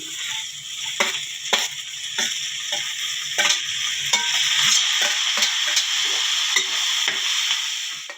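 Ivy gourd curry sizzling steadily in hot oil as tomatoes go in, with a constant bright frying hiss broken by regular sharp clinks of a spoon stirring against the pan.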